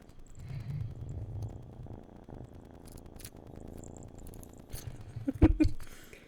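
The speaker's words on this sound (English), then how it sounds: "I think her purrs are getting picked up by the microphone." A cat purrs right against a microphone, a low rumbling drone that swells and fades over several seconds, ending with a few louder bumps and rustles near the mic.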